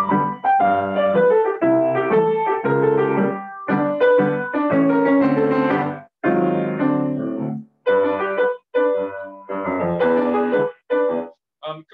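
Stride-style piano bass played fast and detached with little pedal, short clipped chords in a brisk bouncing rhythm, close and alone with no talk.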